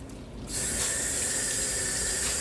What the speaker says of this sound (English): Let me wash my hands from this bacon grease